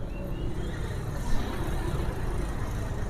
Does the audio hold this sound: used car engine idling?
yes